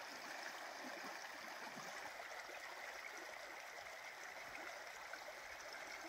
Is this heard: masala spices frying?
no